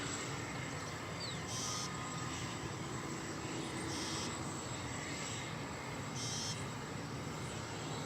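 An airliner, flight 2266 at DFW Airport, roars steadily at a distance with a broad, even engine rumble that holds at a low level from start to finish.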